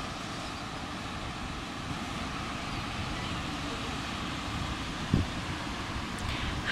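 Wind on the island of Nusa Penida in Bali, a steady low rumble buffeting the microphone with no break, close and moderately loud, with no talk.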